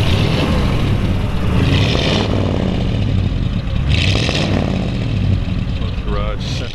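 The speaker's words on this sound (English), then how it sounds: "I'm going to go ahead and get him to rev it up a little bit, if you would." A 1937 Ford convertible's flathead V8 idles and revs in a steady, loud, rumbling drone with a few rising swells, close by, under a wash of broadband noise.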